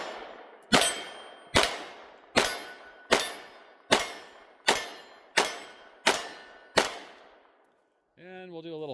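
A Sig P365 AXG Legion pistol fires nine evenly spaced shots at steel targets, each a sharp crack with a ringing metallic clang that decays before the next, followed by a brief voice at the end.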